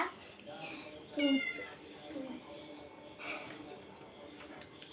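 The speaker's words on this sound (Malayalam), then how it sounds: "ഇതാണ് പൂച്ച." A pet cat gives one clear, close meow early on, followed by quieter sounds amid household background noise, with a person speaking nearby.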